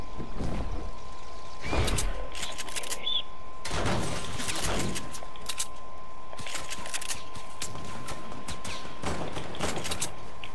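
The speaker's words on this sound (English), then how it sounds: "Gunfight, nice." Gunfire during a Fortnite gunfight: several bursts of rapid shots around two, four to five and nine seconds, with sparse clicks and mechanical game sounds between them and no talk.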